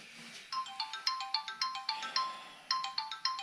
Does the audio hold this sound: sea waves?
no